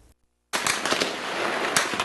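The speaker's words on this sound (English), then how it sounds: "Intense gunfire can be heard across Damascus in new video posted online from Syria." Intense gunfire in Damascus, Syria, rolling in as a dense, continuous crackle of shots after a brief silence. It stays loud and sustained with a few sharper bursts standing out.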